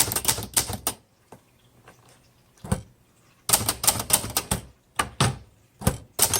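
Keys strike sharply on a 1962 Hermes 3000 typewriter in irregular bursts of clacks, with quick runs broken by short pauses and isolated single strokes, heard up close with no talk.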